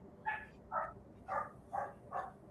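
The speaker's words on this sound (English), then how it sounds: "the doggos be screeching, they be barking" A dog barks five times in a steady, evenly spaced rhythm, sharp and fairly close, with a light background hiss and no talking.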